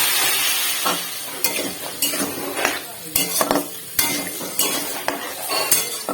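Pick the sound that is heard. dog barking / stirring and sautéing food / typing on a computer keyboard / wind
stirring and sautéing food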